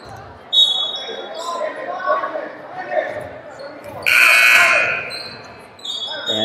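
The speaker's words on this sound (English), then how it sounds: "An inadvertent buzzer" A loud electronic buzzer blares for about a second on a junior high boys' basketball court, cutting through basketball bounces, squeaking shoes, crowd noise and voices, with a shorter tone at the start and end.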